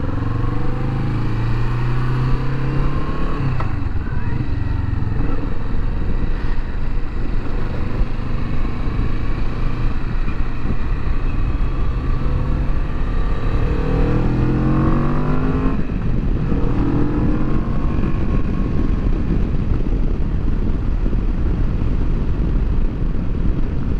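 A 2019 Kawasaki Vulcan S motorcycle with a 650cc parallel-twin engine roars steadily while riding, loud and continuous, with rising and falling pitch as it accelerates and shifts through gears, plus wind noise and no speech.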